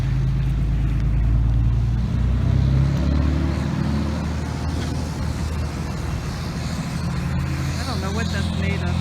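Cars driving past near a roundabout outside an art gallery in Penticton, a continuous low traffic rumble with engines swelling and fading as vehicles pass, while people talk over it.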